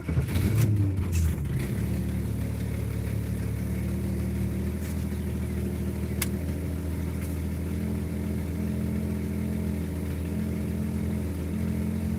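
A manual hot rod engine cranks briefly and catches, then settles into a steady, loud, lumpy idle that runs on evenly for about ten seconds, close and without talk.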